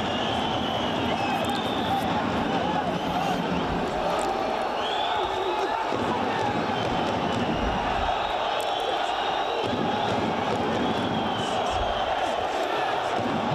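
Kazakhstan fans roaring in an arena during a boxing bout between Makhmud Sabyrkhan and Oybek Juraev, a steady dense crowd din with whoops running throughout beneath commentary.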